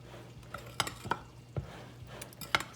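Pakora batter with spices being whisked in a bowl, giving a few sharp scraping and clinking strokes separated by quiet gaps, close and fairly faint, with no voices.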